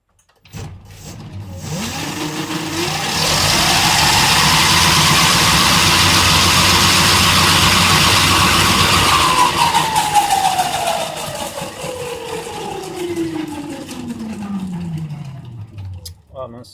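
An electric hub motor drives the rear wheel of an MBK 51 moped, spinning with no load during a speed test. A rising whine climbs steadily, holds at a loud, steady pitch, then falls away slowly as the wheel winds down.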